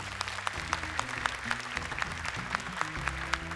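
A studio audience claps steadily and continuously at a moderate distance, a dense wash of hand claps with a faint music bed underneath and no talking.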